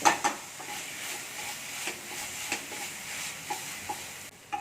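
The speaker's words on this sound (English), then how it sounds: "So let us fry this along with the keema." Mutton keema is fried with about two tablespoons of ginger garlic paste while a spoon stirs it, bringing faint sizzling and light scraping taps against the pan at irregular intervals, with no one speaking.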